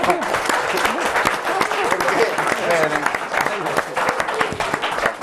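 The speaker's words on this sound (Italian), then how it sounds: "Allora un applauso." Dense applause from a studio audience on a regional Italian TV sports show fills the whole stretch, steady and close, with voices speaking over the clapping.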